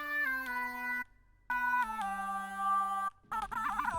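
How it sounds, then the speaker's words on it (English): A bright, harmonically rich synth lead for a rage-style trap melody plays a short sequence of sustained notes with brief gaps, ending in a wobbling, vibrato-laden phrase; loud and close with no voices. "This is the lead that we're going to be using."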